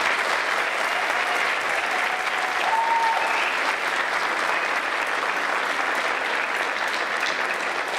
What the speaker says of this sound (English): So why don't we give all of these ladies one big round of applause